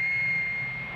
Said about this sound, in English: A-37s taxied to the end of the runway and awaited takeoff instructions.